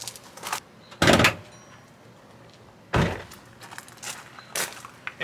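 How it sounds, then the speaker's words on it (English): Hood of a 2024 Subaru Outback being worked open: a few loud, close metallic clunks and thuds with quiet pauses between them, then a softer knock near the end. "Wait till I open the hood."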